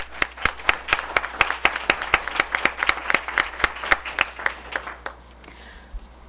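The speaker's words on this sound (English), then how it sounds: "Can we clap for them too?" A school board meeting audience claps for staff with sharp, distinct handclaps at a steady quick rhythm that thin out and fade after about five seconds, heard fairly close with no talking.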